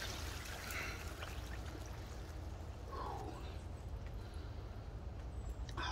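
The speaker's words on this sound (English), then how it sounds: "We can go ahead and fill the tub the rest of the way up" Water runs steadily into a bathtub holding ice for a home ice bath, a continuous close pouring stream with light trickling and splashing throughout.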